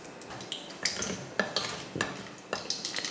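Mustard seeds and urad dal tempering in hot oil for a South Indian vegetarian meal, with crackling sizzle and sharp metal stirring and scraping clinks against the pan in uneven bursts, close and alone.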